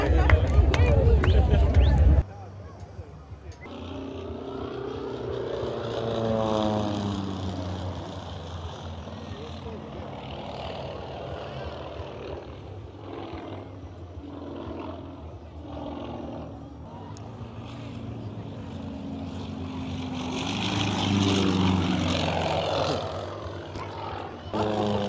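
A propeller plane drones close by, its engine roar swelling and fading while a person talks over the noise.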